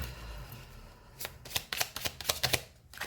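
Tarot cards being spread out across a table, a quick series of soft, papery slaps and flicks following a short quiet pause.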